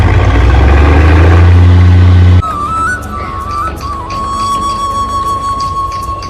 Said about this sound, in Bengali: ওই যে সামনে ট্রলারটা ছাড়ছে, ওই যে মানে ছেড়ে দিচ্ছে